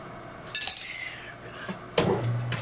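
A reworked PK-80 crankshaft being flipped over in a machine shop gives two sharp metallic clunks, one early and one later, each followed by brief ringing and scraping against a quiet background.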